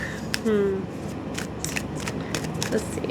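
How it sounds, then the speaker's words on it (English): Tarot cards are shuffled in quick, crisp riffling bursts at close range, repeated several times, with a brief spoken remark near the start. "It feels so good to shuffle the cards."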